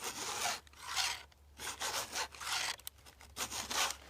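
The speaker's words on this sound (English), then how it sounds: "it is filing the tooth there and the raker up there" A hand file rasps across chainsaw teeth and rakers in about five steady back-and-forth strokes, each a close, gritty scrape separated by short pauses, with no other sounds around them.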